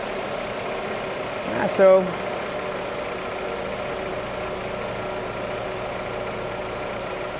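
A car engine idles steadily and close by during an air-conditioning system check, a constant low hum with a brief short voice over it.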